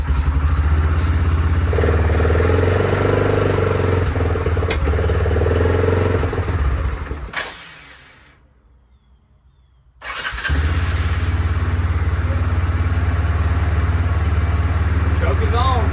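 An abandoned Kodiak 400 ATV engine runs with the choke on, a loud close rumbling idle that cuts out briefly for a couple of seconds before firing back up and settling into a steady idle.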